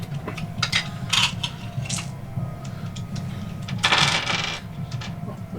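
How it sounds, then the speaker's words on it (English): Dice rolled for a random encounter in a Pathfinder 2 tabletop game, several quick clattering tumbles on a hard surface, near and moderately loud, with brief handling noise between. "rolls the random encounter dice"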